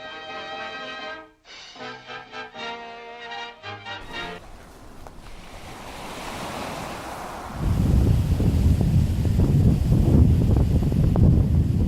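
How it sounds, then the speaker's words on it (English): Ocean surf and wind roar at a beach, building from a soft hiss into loud, continuous crashing waves with buffeting wind noise, following a brief stretch of music at the start. "I'm at the beach finally"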